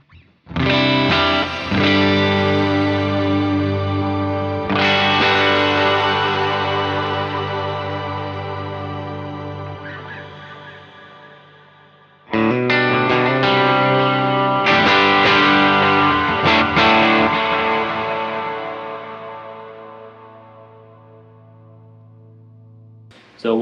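An electric guitar run through an effects pedalboard rings out in two long, distorted, chorused chords, each swelling loudly and then fading slowly over many seconds before the next strum.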